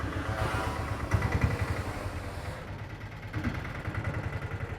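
A T90 motorcycle engine idles nearby with a steady low chugging throb, swelling briefly as the throttle is blipped, then settling back into an even idle.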